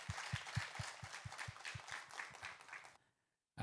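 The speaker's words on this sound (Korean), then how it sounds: "감사와 영광의 박수를 하나님 앞에 올려드리겠습니다" A church congregation clapping together in a steady, even rhythm, fairly faint and distant, then stopping abruptly into silence just before the end.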